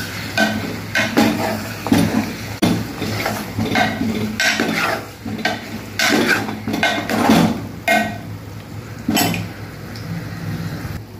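Freshly washed chicken is stirred in oil with ginger in a pan for a chana dal chicken curry, giving repeated scraping strokes and metal clinks over a faint sizzle, close and continuous, with no talk.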